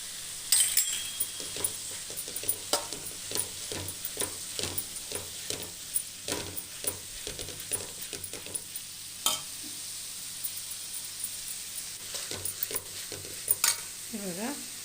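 Crushed pepper and cumin frying in fried rice: steady sizzling with repeated scraping stirs and clinks of a spoon against the pan, close and busy, while a person speaks over it.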